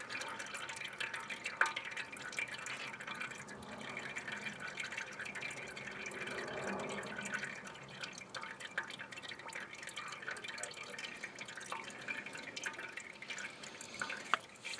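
Automatic transmission fluid drips and trickles from a car's transmission pan into a container below, a faint, steady patter of liquid with scattered louder drops and no talking.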